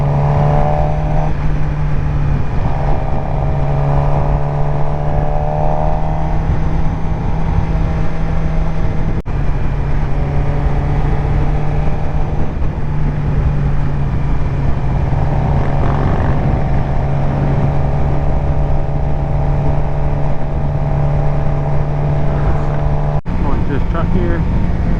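A sport bike engine on a road ride, a loud steady drone close by as the rider eases onto the throttle, with tones rising gradually and wind rush throughout.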